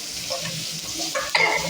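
Chicken liver being stirred with salt in a pan, a continuous frying sizzle under several stirring scrapes that grow louder toward the end, close by, with no voices.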